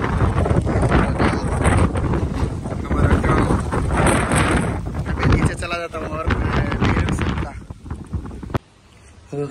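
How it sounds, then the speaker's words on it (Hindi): Strong wind on a rooftop, roaring and buffeting straight into the microphone in loud gusty rushes that drop off near the end, with a voice talking over it. "पूरा तेज हवा चल रहा है।"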